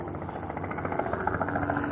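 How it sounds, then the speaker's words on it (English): Helicopter approaching an airfield at Headcorn, a steady low rotor drone with a faint beating pulse, continuous and moderately distant under general outdoor ambience. "Helicopter coming in."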